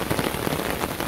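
Steady rain pours down across a village, a dense, even hiss of drops hitting surfaces close by, with no voices or thunder.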